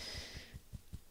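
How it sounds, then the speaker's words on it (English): Fingers tapping on the chest just below the collarbones, about five soft, dull thumps in a steady rhythm, close and quiet with a faint hiss at the start. "start tapping on your chest, right underneath your collarbones"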